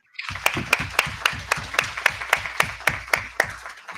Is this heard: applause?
yes